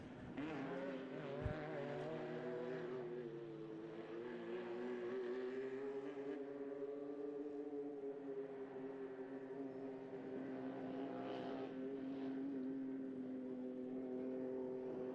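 A Can-Am off-road race vehicle at a shell race series event, its engine droning steadily and loudly for the whole stretch with shifting pitch as it races, with no talk over it.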